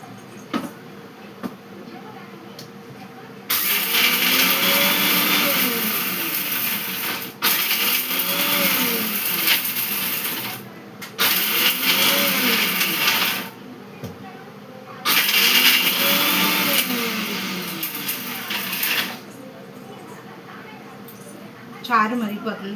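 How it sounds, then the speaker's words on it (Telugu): A kitchen mixer grinder whirs loudly in several bursts of a few seconds each, separated by short pauses, with a voice speaking over and between the runs. "ఇది మిక్సీ పట్టేసుకుందాము."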